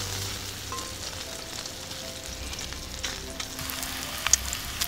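Soft, steady sizzling from bacon in a small hot pan at a bushcraft camp, with a few faint pops and clicks near the end; no talking.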